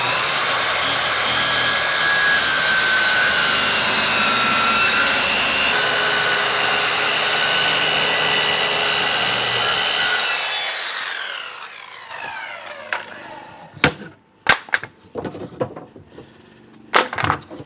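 A power saw cuts wooden boards for a truck bed platform with a loud, sustained whine that stops partway through, followed by scattered knocks and clatter of wood being handled.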